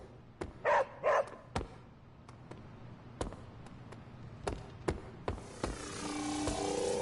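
A dog barks repeatedly in the video game Marvel Midnight Suns, sharp separate yaps spaced irregularly over several seconds, with a brighter sparkling game effect rising at the end.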